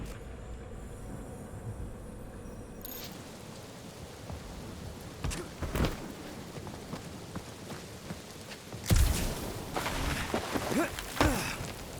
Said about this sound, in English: you think they look like a bunch of tiny rockets trying to get out of the rain?